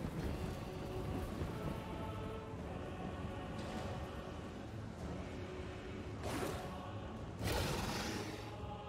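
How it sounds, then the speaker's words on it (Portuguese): Rain in the video game Total War: Warhammer III hisses steadily as a dense wash, with louder surging gusts like thunder rolls swelling near the end. "Essa chuva está lagando meu jogo."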